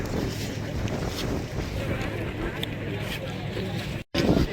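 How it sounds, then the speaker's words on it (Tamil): A passenger boat from Neduntheevu island approaching across open water at Nainativu, its steady engine rumble mixed with heavy wind buffeting the microphone, continuous throughout with a brief dropout near the end. "நெடுந்தரை படகு வருது நெடுந்தீவிலிருந்து"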